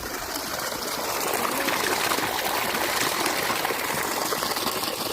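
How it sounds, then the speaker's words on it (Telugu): A babbling stream of flowing water near a village in winter: a steady, close, broadband rush and trickle that continues evenly throughout, with no voices. "గలగల పారుతున్న సెలయేరు"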